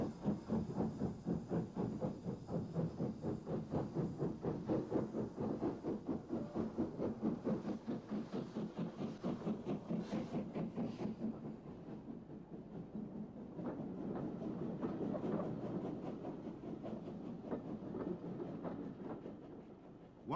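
An LMS steam locomotive, normally based on the Severn Valley Railway, works a festive train on the Swanage line, its rapid rhythmic chuffs heard at a distance and fairly faint, later fading into a steady rolling rumble.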